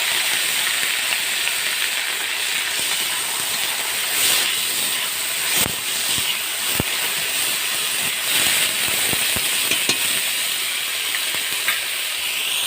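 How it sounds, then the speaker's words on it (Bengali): Diced potatoes tossed into hot oil with already-fried onions give a loud, constant hissing sizzle close up, with a few sharp clicks and knocks from the pan along the way. "আলুগুলো একটু ভালো করে ভেজে নেব।"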